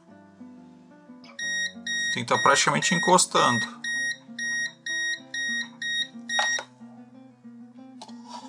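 Steady electronic continuity beeps from a Mustool MT-110 multimeter pulse in a regular rhythm, close and clear, with a person speaking briefly over the first few.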